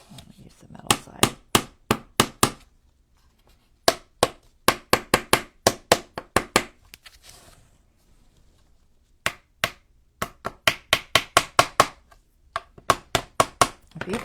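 A miniature kit part being tapped with the metal side of a tool: sharp, close taps fired in quick runs of several strikes, separated by short pauses of near silence.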